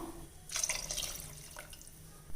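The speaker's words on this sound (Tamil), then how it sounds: "தேங்காய் பால் ரெண்டு டம்ளர் தண்ணி ரெண்டு டம்ளர் சேர்த்துக்கிறோம்" Water trickles and splashes into a pot of coconut milk for biryani, a short soft pour with a couple of brief splashy bursts, quiet and close.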